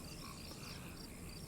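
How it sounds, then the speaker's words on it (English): A steady, dense chorus of frogs croaking, continuous and evenly textured, faint and distant-sounding, with no voices. "you've heard sounds of frogs and birds"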